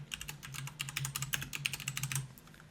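Rapid typing on a computer keyboard, with a quick burst of close, crisp key clicks lasting a few seconds over a faint steady hum.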